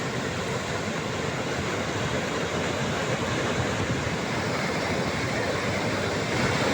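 Floodwater of the swollen Godavari River in Nashik rushes in a dense, continuous roar, loud and steady from start to finish with no pauses, and no voices over it.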